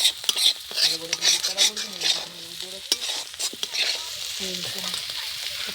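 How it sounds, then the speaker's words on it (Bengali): Bitter gourd fries in a pan with a loud, busy sizzle, broken by frequent scraping and clinking as a metal utensil stirs it. A voice talks over the cooking. "তো আমাদের উস্তে ভাজা হয়ে গেছে"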